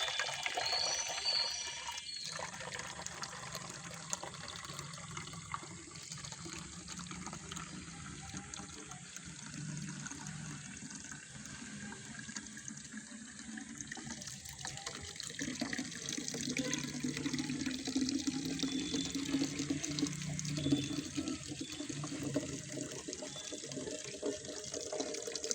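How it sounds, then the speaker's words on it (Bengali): Tap water runs steadily into a bottle for a rooftop garden sprayer, a continuous splashing flow lasting the whole stretch with a slight shift in tone as the bottle fills. "বোতলে পানি ভরে নিচ্ছি।"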